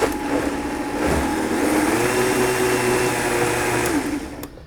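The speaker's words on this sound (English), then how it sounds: "And we're going to blend this together." A blender whirs steadily as it purees a liquid taco chicken marinade, a loud continuous motor drone holding for about four seconds before cutting off, with no talking.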